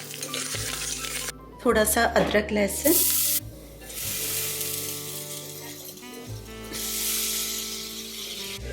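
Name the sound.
spices sizzling in hot ghee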